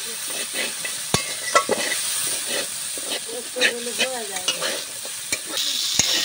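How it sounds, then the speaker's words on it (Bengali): Fried potatoes with poppy seeds being stirred in a pan, a steady loud sizzle and hiss with scraping spatula strokes and a few sharp clanks against the metal, close up and continuous. "এবার নেড়ে নেব আলু পোস্ত।"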